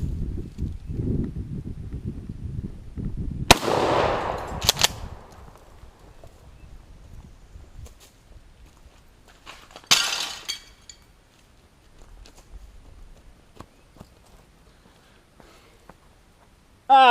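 Shotgun fire at an outdoor range, a few sharp blasts with scattered clattering as a target breaks, separated by quiet stretches.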